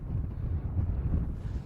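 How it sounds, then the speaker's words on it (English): A strong winter storm wind gusts steadily across an Outer Banks beach, roaring loud and close against the microphone with a constant low rumble and no pauses. "And the winds are going to increase quite a bit more as the storm bombs out."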